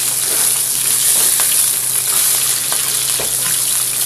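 Salmon fillet pan-searing in a hot pan, giving a loud, steady, close-up sizzle of spitting fat with occasional crackling pops, heard alone without any talk.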